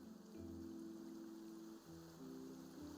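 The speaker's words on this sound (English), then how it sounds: "It's raining." Steady rain patters across the ground in Genshin Impact, a continuous soft hiss beneath sustained low tonal game music, with a brief dip partway through.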